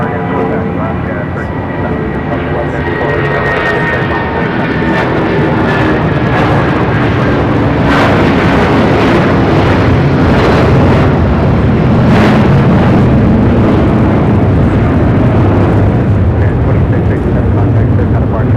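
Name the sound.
airliner taking off from runway 6 right at LAX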